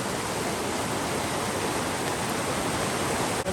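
A river rushes past at a spot too rough to cross, a dense, even roar of flowing water that fills the whole stretch without a break.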